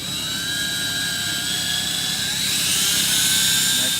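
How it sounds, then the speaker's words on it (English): A steady high-pitched whine of a drill with a 29/64 bit re-drilling holes in a Yamaha GP1800 personal watercraft, running continuously and loudly, close by, with no pauses and no voices. "take your 29/64 drill bit and re-drill the holes"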